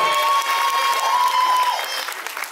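Applause and cheering from an audience at a Lady and Lord Réunion 2018 pageant evening, greeting a contestant's introduction; dense steady clapping with a crowd roar throughout, plus a sustained whistle-like tone.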